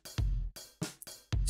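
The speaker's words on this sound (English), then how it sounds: "It's just basic drum." A basic dry drum beat with no effects plays alone: deep kick thumps alternate with bright snare cracks in a steady pattern, loud and close.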